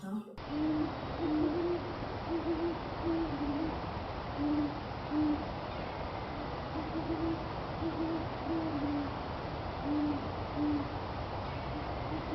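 Owls hoot back and forth in a duet in a forest park, with soft, low calls repeating in short groups of two or three over a steady background hiss. The calls stay moderately distant and no one speaks.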